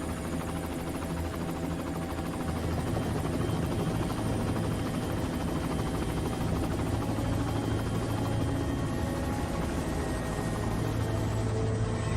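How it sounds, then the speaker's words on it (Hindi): A helicopter flying in to land, its steady rotor thump and turbine whine loud and continuous, with a constant low engine drone and no breaks. "हेलीकॉप्टर नीचे लो।"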